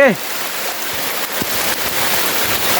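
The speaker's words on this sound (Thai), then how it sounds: "ตอนนี้ ฝนกำลังตกลงมาเลยนะครับ พี่น้อง" Rain falls steadily at Sap Sa Kaeo waterfall in Ban Khao Phloi, a continuous broadband hiss of drops and rushing water that stays even throughout, with faint voices in the background.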